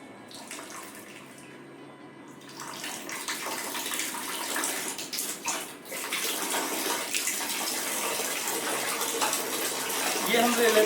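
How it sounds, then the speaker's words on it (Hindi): Water pours steadily from a Kangen water ionizer machine, a continuous close gushing and splashing that grows slightly stronger over time, with people talking faintly in the background. "ये नीचे से पानी निकल रहा है"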